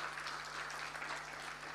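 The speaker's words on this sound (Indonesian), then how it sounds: "Tepuk tangan untuk kita semua" Applause from a church congregation at a family revival service at GBI Batam Center Point, a steady wash of clapping from a crowd held at an even level throughout.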